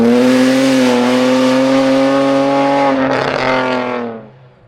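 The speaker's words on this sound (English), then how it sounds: "The BMW's deep, captivating exhaust note echoed through the forest, delighting fans along the stages." Loud, sustained exhaust note from a BMW rally car's 3-litre inline-6 on a forest rally stage, a deep steady drone holding for several seconds before fading away as the car moves off.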